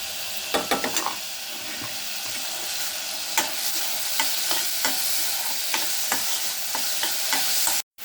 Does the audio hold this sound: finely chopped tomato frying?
yes